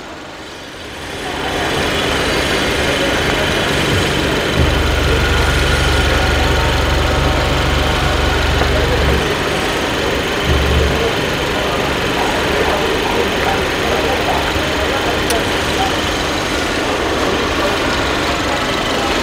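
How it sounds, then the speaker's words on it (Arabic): A car's GDI petrol engine idles smoothly and quietly, a steady low hum running continuously from near, alone with no talk, during an inspection of a car in a Port Said storage yard. "الموتور دلوقتي داير مفيش صوت, صوته ناعم هادي"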